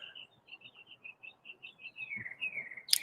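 A pet bird chirping indoors: a rapid, even series of short high tweets followed by a drawn-out descending call, fairly close but not very loud.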